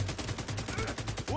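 Rapid machine gun fire in a video game, a dense stream of shots running through the whole moment with a brief burst of other game sound near the end.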